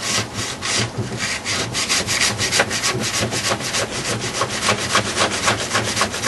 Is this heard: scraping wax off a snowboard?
yes